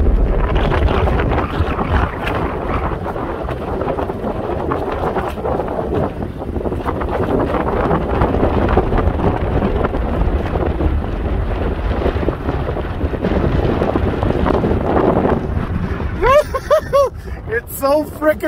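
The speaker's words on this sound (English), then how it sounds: "So freaking windy up here." Strong wind on a mountain top buffets the microphone in loud, roaring gusts throughout, with a brief burst of high-pitched voices near the end.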